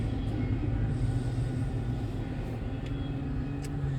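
Tail end of a long passing freight train, a steady low rumble and rolling wheel noise close by with faint metallic squeals, no talk.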